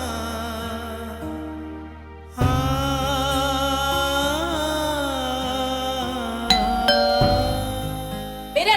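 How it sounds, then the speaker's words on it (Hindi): A home doorbell rings in a Hindi TV serial scene, bright chiming tones sounding over a sustained music score, with a sharper ding-dong strike near the end. "मेरे अलावा कोई भी घंटी नहीं सुनता है।"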